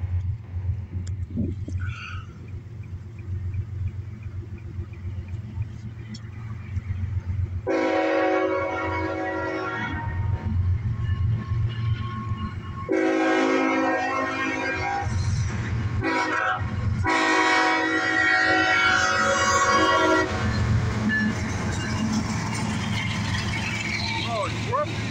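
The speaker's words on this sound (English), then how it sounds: "Wow, listen to this Godzilla horn." Northbound CSX double-stack intermodal freight train sounding a loud, harmonically rich horn in several long blasts at a road crossing, with rail rumble underneath and a person talking nearby.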